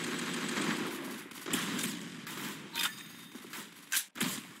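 Rapid gunfire from the online shooter game Roblox Arsenal, a dense steady clatter of shots with a few sharper, louder bursts toward the end.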